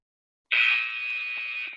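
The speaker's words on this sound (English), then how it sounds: "you can just go until that buzzer." A workout interval timer buzzer at a virtual boot camp class sounds one loud, steady electronic tone that starts abruptly and holds for over a second without any talk.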